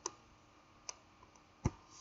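A computer mouse clicks a few separate times in a quiet room: three or four sharp, short taps spread unevenly, with the last one the loudest and closest.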